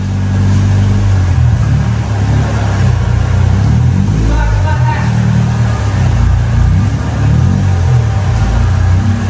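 A Honda EK drives off after a lower bush replacement and a fix for a broken part that made it pull under braking. A medium engine idles and revs nearby, rising and easing, with faint voices in the background.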